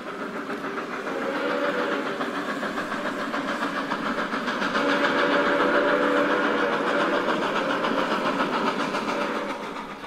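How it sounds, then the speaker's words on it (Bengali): A train pulling out at night, a steady rumbling rolling drone with a faint whistle-like tone, continuous and fairly loud throughout. "ট্রেন ছাড়ল রাত্র 10টায়"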